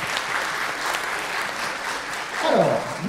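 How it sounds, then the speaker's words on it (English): Steady, full applause from a convention audience at an actor panel with Emma Caulfield and Emilie de Ravin at the Toulouse Game Show, dense continuous clapping with a brief swell near the end. "Applaudissements s'il vous plaît."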